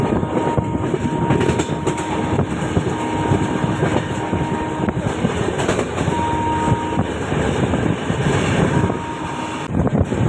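A train runs along a creek on the way to Dwarka, a steady loud rumble of wheels and carriages with faint clickety-clack, continuous and close throughout with no voices.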